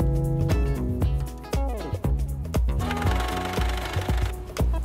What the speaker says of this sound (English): I switched my machine over to the longest stitch length possible